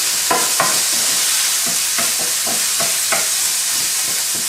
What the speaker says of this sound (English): I can hear this meat getting quiet, which means that most of the moisture's gone and it's browning.